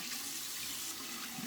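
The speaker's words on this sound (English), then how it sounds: "So let's clean off my hands here real quick." Tap water runs steadily into a sink while hands are rinsed clean, a constant soft splashing rush heard close by, with no speech.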